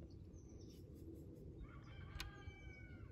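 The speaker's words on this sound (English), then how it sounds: "the rooster's trying to wake up the farmer" A rooster crows once in the distance on a farm, its drawn-out call rising over a low, steady rumble of background noise with hungry cows.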